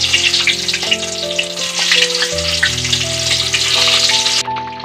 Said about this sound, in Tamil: எல்லா கத்திரிக்காவும் இந்த மாதிரி எண்ணெயில் சேர்த்திட்டு இதை நல்லா கோல்டன் ப்ரௌன் ஆகிற மாதிரி நல்லா ஃப்ரை பண்ணி எடுத்துக்கலாம்